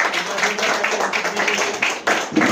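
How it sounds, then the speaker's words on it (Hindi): An audience applauding a program member at a business presentation event, dense steady clapping from a crowd filling the room, loud and continuous. "एक बार जोरदार तालियां प्रतीक जी के लिए"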